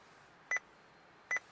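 Two short, bright electronic beeps about a second apart come from an Android aftermarket car radio fitted in a Toyota Celica T23, each a clipped double pulse over a quiet interior hush.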